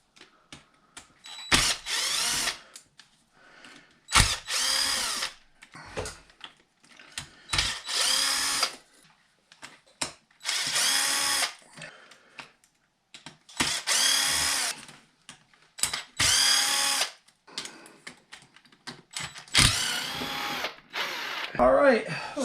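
Power drill backing out servo bolts on a Primal Raminator RC truck, several separate bursts of whirring a couple of seconds each with pauses between, close and loud.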